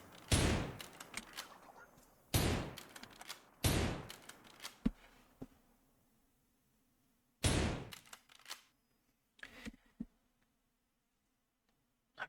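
Gunfire in a video game battle, several sharp bursts of rapid shots separated by pauses, each burst loud and abrupt over a faint low hum, with a few single shots between, no talking.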